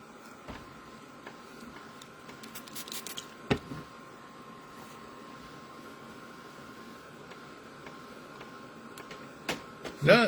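A heat drying tool is aimed at Distress paint, giving off a steady, fairly quiet whirring hum throughout, with a few scattered clicks and handling knocks.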